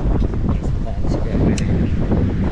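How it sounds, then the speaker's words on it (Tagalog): Strong gusts buffet the microphone at a seaside campsite in Bolinao, Pangasinan, a steady loud roar of wind noise throughout with faint murmuring beneath. "Ang lakas ng hangin dito."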